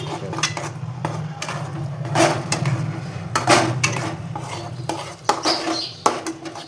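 Sweet potato sheera being stirred in ghee in a metal pan over low heat, with a steady run of spoon scrapes and clinks against the pan, loud and close, with no talking.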